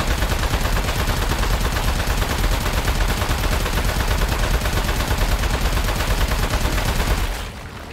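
Sustained rapid gunfire from the video game Aperture Desk Job, shots aimed at a metal target, a loud dense rattle running steadily for about seven seconds before cutting off to quieter background.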